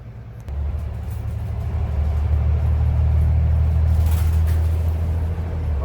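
Inside a moving transit bus, a deep engine rumble builds as it pulls away and holds steady with a road-noise hiss. The sound is close and continuous, with no talking.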